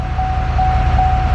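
A GM L5P diesel truck engine idles steadily after an injector pigtail repair, a low, even rumble with a faint constant whine running through it, alone and close.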